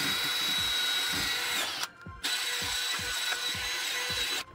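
A power brush whirs steadily with rhythmic scrubbing pulses while cleaning a BMW E34 sub-frame bushing area, cutting out briefly midway before starting up again.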